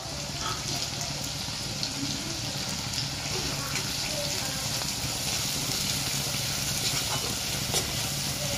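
Green garlic leaves hit a pan of frying egg masala, giving a steady, close sizzle that carries unbroken throughout, with faint stirring scrapes mixed in.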